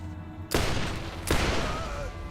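Gunfire in the Borderlands video game: two loud, dense bursts of rapid shots, the first at about half a second and the second just past one second, each trailing off into a noisy decay.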